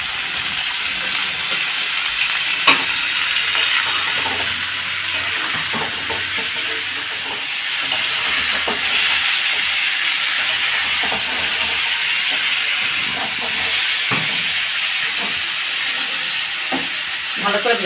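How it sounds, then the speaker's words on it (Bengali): Chicken pieces and finely chopped onions fry in a pan for a kosha-style curry, giving a steady, close sizzle and hiss with scattered clicks of stirring throughout. "ভালো করে ভেজে নেব।"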